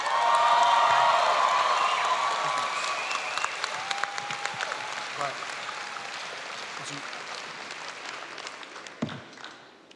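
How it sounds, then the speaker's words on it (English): Audience applause at a Pacific University lū‘au and hō‘ike, a loud burst of clapping that gradually thins and fades over about ten seconds, with scattered cheers mixed in. "Everyone, please give a round of applause to our NHOH advisor, Auntie Jana Lei Chun."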